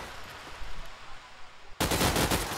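AK rifle fire from the Counter-Strike video game at an esports LAN match erupts as a loud, dense burst of gunfire that cuts in abruptly after a stretch of hissy background noise.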